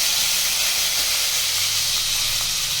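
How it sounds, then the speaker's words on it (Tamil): Tomatoes hit hot oil with fennel seeds for a chicken kuzhambu, producing a loud, continuous hissing sizzle that holds steady with no talk over it. "நல்லா இப்போ பொரியவும் 2 தக்காளி சேர்த்துக்கிறோம்."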